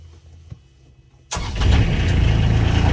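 A Polaris Ranger utility vehicle's engine cranks and catches abruptly, then settles into a loud, steady running roar close by, with no voices over it.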